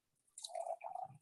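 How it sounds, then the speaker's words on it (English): Water poured from a jug or bottle into an empty drinking glass, a brief liquid splash and trickle lasting about a second, close and fairly quiet. "Let me fill it with water."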